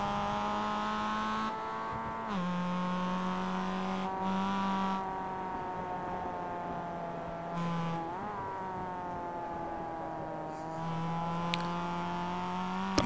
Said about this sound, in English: Third, second, you hear him downshift too.